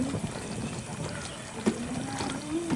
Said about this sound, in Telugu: మళ్ళీ దీన్ని ఉడికించుకోవాలి కాబట్టి ఇంకొంచెం వాటర్ పోసుకుందాం